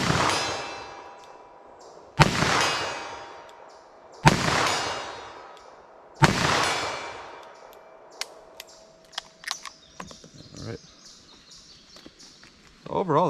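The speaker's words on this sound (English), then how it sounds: "considering I'm just quickly firing double action" Four loud, sharp gunshots ring out about two seconds apart as a 4-inch or 2-inch .38 Special revolver fires 110 gr +P+ Treasury loads double action, each echoing off. Quieter clicks and a voice follow.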